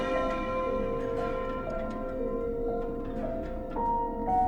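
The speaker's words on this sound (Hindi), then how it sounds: "घंटी अपने आप बजने लगी, पूरे घर में गूंज उठी।" A bell rings out in repeated strikes, each clear tone lingering and echoing into the next, with no voices.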